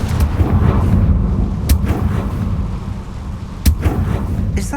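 Confringo blast spell bursting in Hogwarts Legacy, a loud booming rumble with a sustained roaring wash and a couple of sharp cracks, close and continuous.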